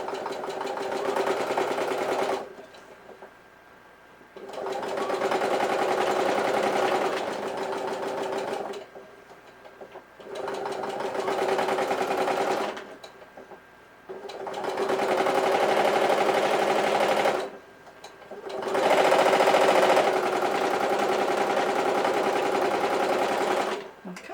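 A sewing machine stitching a purse in several bursts of steady whirring, each lasting a few seconds, separated by short quiet pauses, close and clear.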